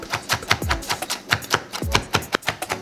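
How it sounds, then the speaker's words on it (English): Knife finely chopping mango into a paste on a cutting board, a quick run of crisp, close taps in a steady, slightly uneven rhythm, with no talk over it. "Chop it fine"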